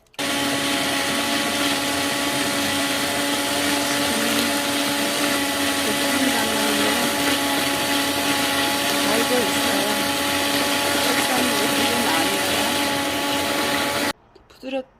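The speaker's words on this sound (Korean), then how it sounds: "요거 이제 도깨비 방망이로 갈 거예요" A hand blender grinds peeled tomatoes into juice, a steady loud whirring drone running unbroken for about fourteen seconds before cutting off, with a few faint knocks after it stops.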